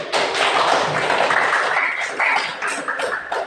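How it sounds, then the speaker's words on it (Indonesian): A class applauds together, a dense, steady patter of many hands clapping close by for several seconds, slightly uneven toward the end. "Oke, aplaus dulu."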